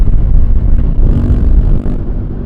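A supermotard motorcycle engine roars close and loud in low gear while the bike lifts into a wheelie, a deep rumbling rev that swells and dips with a brief drop near the end.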